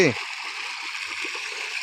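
Water flowing steadily outdoors in a rural spot in Thailand makes a continuous broadband rushing hiss throughout, with faint low voices murmuring beneath it.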